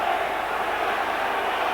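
A football crowd at a West Bromwich Albion match roars steadily as players tussle, a dense, loud wall of voices that stays constant without a clear peak.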